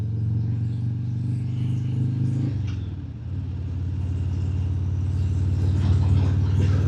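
A Harley-Davidson Breakout 117 motorcycle's exhaust gives a steady, deep low rumble. Partway through it briefly dips as if shifting, then settles back into a strong, even drone.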